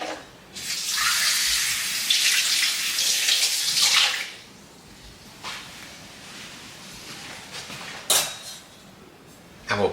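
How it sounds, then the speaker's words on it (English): Tap water rinses an espresso cup at a home espresso setup: a loud, close rush of running water for a few seconds, then it stops, followed by a couple of light clinks of ceramic. "let's rinse this espresso cup again"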